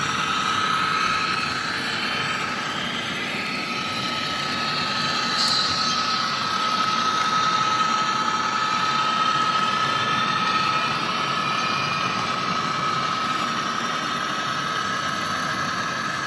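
A model train running on a three-rail layout, giving a steady mechanical rumble and whir with a faint high tone held throughout, loud and continuous with no talk.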